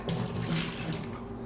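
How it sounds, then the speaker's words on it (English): Preheating water is tipped out of a hot mug in a short, splashing pour, a brief gush of liquid heard close and alone. "We're going to dump out this water that we just preheated our mug with."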